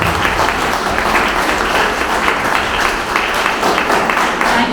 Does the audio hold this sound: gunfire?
no